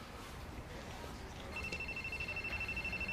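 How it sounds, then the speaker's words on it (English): Cell phone ringing in a bank office, a faint electronic ringtone pulsing steadily, starting partway through under quiet room noise. "Your cell phone. It's ringing."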